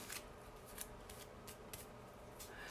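Scissors snip through book pages coated with Mod Podge, a series of quick, faint close cuts in an irregular rhythm over a soft background hiss.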